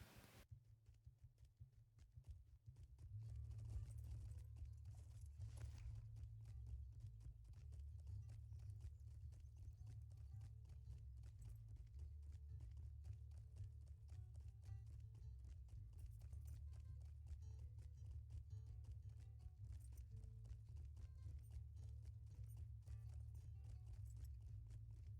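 Horse hooves clip-clop steadily in the Lord of the Rings Online game as a mount rides through Bree, a continuous rhythmic gallop that starts a few seconds in and carries on loud and even to the end, with no talk.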